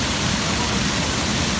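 Steady, dense rush of a waterfall at a swimming spot, heard close and loud as continuous broadband noise with no breaks or voices.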